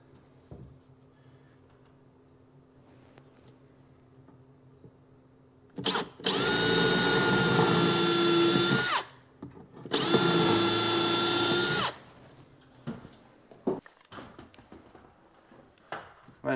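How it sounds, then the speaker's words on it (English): A power drill pre-drills screw holes in new kitchen cabinets during a house flip, in two loud whirring bursts of about three and two seconds separated by a brief pause, with quiet room tone around them. "And then I pre-drill."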